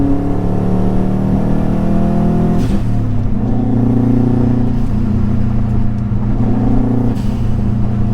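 A Subaru WRX engine idling steadily with a deep, loud rumble, briefly revving around the middle, no voices.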